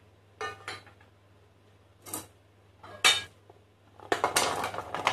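Metal baking tray handled in a home kitchen while preparing oven-baked potatoes: several separate sharp metallic clanks and scrapes spaced over a few seconds, ending in a denser rattle, over a low steady hum.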